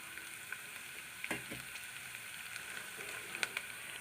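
Food frying in a pan while making okra bonda, a quiet continuous sizzle with a few faint clicks and light scrapes of stirring.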